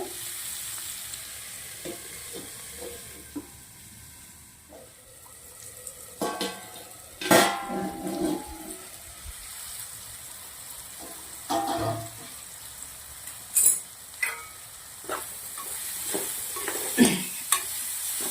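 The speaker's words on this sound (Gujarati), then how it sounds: "હવે આપણે સરસ મિક્સ કરી દઈશું હળદર મીઠાના અંદર આપણે કંકોડા પાંચ મિનિટ સુધી ચડવા દેવાના છે" Spiny gourd (kankoda) pieces seasoned with turmeric and salt sizzle softly in a pan while a spoon scrapes and stirs, with sharp clatters and scrapes breaking in irregularly over the low frying hiss.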